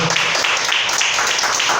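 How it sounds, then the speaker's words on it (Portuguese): A church congregation applauds at a service, a dense, steady wash of clapping that holds at an even level from start to finish, with no clear voices above it. "Aplaude o Senhor Jesus aí mais uma vez"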